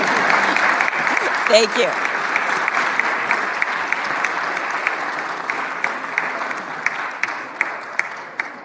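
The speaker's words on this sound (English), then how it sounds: "You can applaud again." Applause fills the House of Representatives chamber at the Capitol, a steady sustained clapping from a large crowd that runs throughout, with a brief spoken thanks early on.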